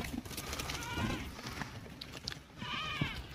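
Goats bleat at a livestock market, two quavering calls rising out of a busy, murmuring crowd background with occasional clatter.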